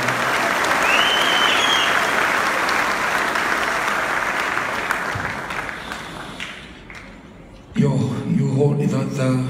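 A church congregation claps hands together in praise, a loud dense burst that gradually thins and fades, then a voice begins speaking near the end.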